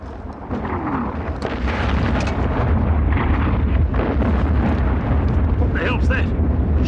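Artillery shells burst in a continuous, dense barrage of booms and rumbling explosions, loud and close, with shouting voices mixed into the din.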